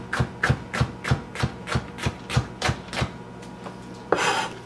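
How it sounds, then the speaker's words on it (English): A knife cuts onion, pepper and mushroom pizza toppings on a board with about a dozen crisp, evenly spaced chops, close and clear, ending in a brief scraping swipe. "you can cut the toppings however you like them to be"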